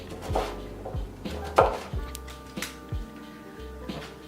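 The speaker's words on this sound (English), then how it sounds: "And then cut it into other 1/2 inch slices so you've got big cubes" A knife chops celery root into cubes on a cutting board, giving a series of crisp, close thuds at an uneven pace, about ten strikes, with light scraping between them.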